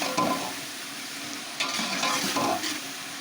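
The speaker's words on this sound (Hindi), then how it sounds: "अच्छा सा भूनना है इसको।" Peas for a Chinese-style chicken pulao sizzle in a pan while being stirred, with scraping strokes over a continuous close fry and no talking.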